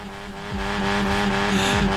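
A front-wheel-drive car in the Forza Horizon 4 game launches at full throttle with the handbrake on, the engine droning steadily and rising slightly in pitch while tires squeal briefly, loud and close.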